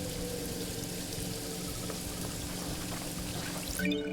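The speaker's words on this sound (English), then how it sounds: "Now it's raining." Steady rain in a video game patters and splashes continuously, a dense wash of droplets with no voices.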